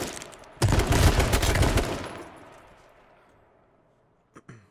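A sudden, loud burst of rapid gunfire in the battle royale game H1Z1 rings out for about a second and a half, then decays into a long echoing tail, followed by one faint shot near the end.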